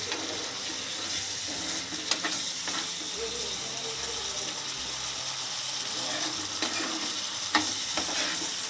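Punjabi-style Jain green chole sizzles in oil in a pan while a spoon stirs and scrapes it in steady, ratcheting strokes, with occasional louder clacks against the pan.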